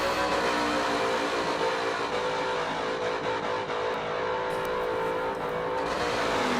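A race car drifts at Yas Marina, its engine droning and straining steadily at high revs as it slides its rear end through corners, heard from a distance with a constant roar and slight dips.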